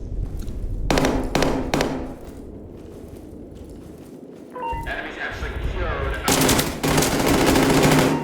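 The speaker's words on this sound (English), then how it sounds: "Oh, is that a live grenade?" An explosive grenade blast in a first-person shooter, loud broadband bursts among rapid gunfire, with a player talking over the action.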